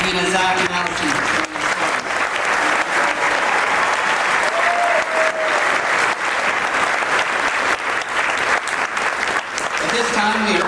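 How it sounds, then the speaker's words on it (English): Sustained, loud audience applause fills a high school graduation ceremony at Mountlake Terrace High School, steady clapping from a large crowd with a few faint voices mixed in. "Let's give one more round of applause to Adam, Medina, Zach, and Allison."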